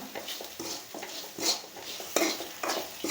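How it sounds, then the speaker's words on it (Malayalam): Onions with salt and turmeric powder are stirred in a pan while cooking a beef fry, giving close spatula scrapes and clinks over a soft sizzle in an uneven rhythm, with no talking. "ഇത് നമുക്കൊന്ന് മിക്സ് ചെയ്ത് കൊടുക്കാം"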